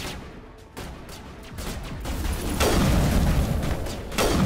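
Grenade explosions in Mass Effect Legendary Edition: a rolling wave of booming blasts and rumbling gunfire-like bursts that swells louder toward the end, loud and close with no talk over it.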